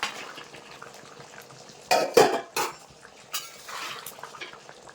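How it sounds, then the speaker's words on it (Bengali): Fried pangas fish pieces drop into a pot of boiling curry, giving a few loud close clattering splashes and knocks of pot and utensil against a low bubbling background. "এবার ভেজে রাখা মাছ দিয়ে দেবো"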